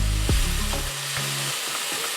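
Green beans fry in a hot pan, giving a steady sizzle with a few stirring scrapes and clatters near the start, close up and alone with no voices.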